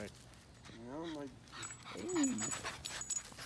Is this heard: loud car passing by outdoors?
no